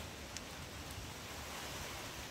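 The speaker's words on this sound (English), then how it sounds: "It is raining." Steady rain falling outdoors in an African village, a dense even hiss that runs unbroken for a couple of seconds with no voices over it.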